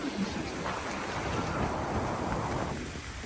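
The Maid of the Mist tour boat moves on the water near Niagara Falls, with a continuous rushing wash of wind and water in an open outdoor setting, fairly faint and without a distinct engine note.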